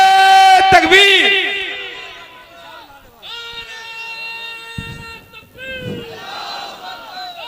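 A large crowd at an Islamic religious speech gathering roars the takbir slogan in unison, loud and sustained after a prompt from the speaker, then fades into scattered voices and further calls.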